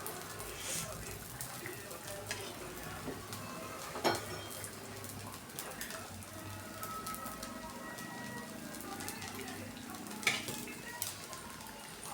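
Sabudana vada fry in hot oil for a fasting meal, a steady close sizzle with occasional clinks of a utensil against the pan, and a voice talks over it.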